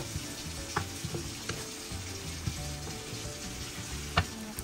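Continuous crackling sizzle of chicken skin frying in oil nearby, broken by a few sharp clicks of a utensil against the pan.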